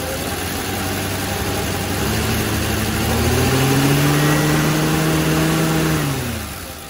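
A 1940 Plymouth engine fitted with an Autolite generator idles steadily, then revs up with a rising, sustained drone and drops back down near the end, close and loud with no talking.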